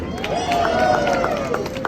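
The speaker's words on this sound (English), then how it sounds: "our animals know exactly what the sound of your applause means" Audience at the Hershey Park sea lion show clapping and cheering in a steady, continuous wash of applause from a crowd, moderately loud, with crowd noise mixed through.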